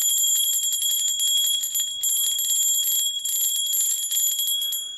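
An antique brass bell rings steadily and loudly for about five seconds, its bright sustained tones shimmering with no voices present.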